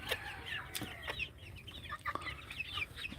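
Chickens raised from chicks cluck in short overlapping calls, close and busy, a small flock chattering continuously with occasional sharper squawks.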